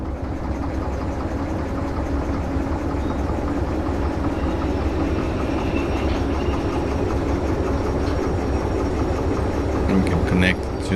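Train rolling along rails in the video game Derail Valley, a steady low rumble with faint rhythmic clatter running continuously at even loudness, with a brief brighter screech near the end.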